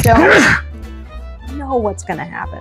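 A single loud sneeze bursts out at the start, followed by people talking.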